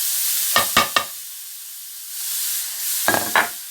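Zucchini slices drop into a pan of hot olive oil and sizzle steadily, with a few close clatters of stirring over the continuous frying hiss.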